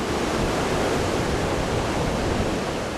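Beach surf near a shipwreck site rushes continuously as a broad, steady wash of breaking waves, fairly loud and unbroken with no voices.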